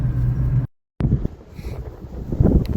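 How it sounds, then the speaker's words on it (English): Strong Patagonian wind buffets the microphone in a loud, rumbling roar, cutting out briefly before gusting back just as hard. "It is very windy here"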